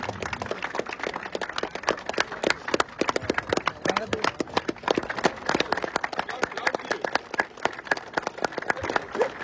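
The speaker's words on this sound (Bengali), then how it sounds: "সকলকে উপস্থিত এখানে সকলকে করতালি দিয়ে উৎসাহিত করার জন্য অনুরোধ করছি" At the prize ceremony of a cricket tournament final at Belguma Police Line, an audience claps in a steady run of sharp, dense applause, while voices carry on underneath.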